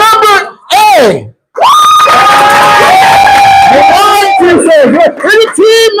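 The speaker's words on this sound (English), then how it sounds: "We're going to judge by round of applause which is the better car." A youth class audience loudly cheering, whooping and shouting to judge car teams, the crowd noise rising in bursts with excited young voices yelling close by.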